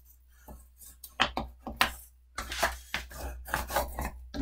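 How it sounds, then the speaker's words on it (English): Paper being burnished and folded into a pocket for a Christmas mini scrapbook album: a series of close, dry rubbing and scraping strokes with short taps and creases, irregular in rhythm. "I'm going to burnish and fold."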